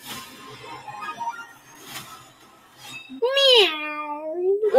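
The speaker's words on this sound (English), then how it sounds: "Meow." Cat meowing in a comedy trailer, a single drawn-out rising-then-falling meow near and loud near the end, after a stretch of quieter scattered sounds and voices.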